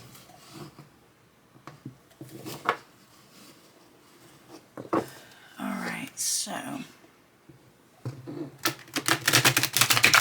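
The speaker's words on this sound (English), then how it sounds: "Let's see how they shuffle." Crisp riffling and flicking bursts of a standard-size Aquarian Tarot deck by David Palladini being shuffled, with a brief spoken phrase near the start and a dense rapid riffle at the end.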